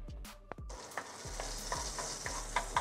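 Butter melts and sizzles in a pan for omelette curry, a soft steady frying hiss broken by several light spoon taps and scrapes against the pan, close and fairly quiet with no talking.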